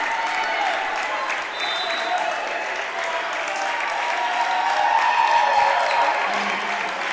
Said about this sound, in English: Yeah, you'll hear the Tigers fans still cheering after that one.